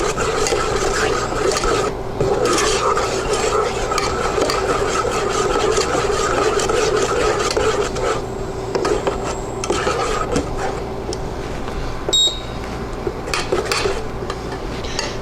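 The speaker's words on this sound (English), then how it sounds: "I'm going to go ahead and mix in the sugar and pectin, returning it to a boil" Spoon scraping and stirring sugar and pectin into cranberry jam in a pot, a continuous close rasping and clinking against the pot that runs throughout, loud and unbroken.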